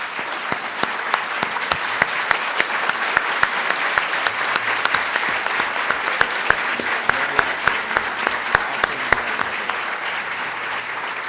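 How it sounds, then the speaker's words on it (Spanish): An audience at a road-infrastructure engineering panel applauds steadily, with a dense bed of clapping and individual sharp, close hand claps standing out throughout. "saludar y eventualmente aplaudir."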